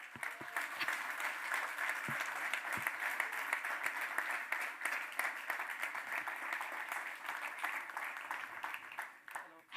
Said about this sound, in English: Please give an incredible, warm round of applause to Nico Rosberg!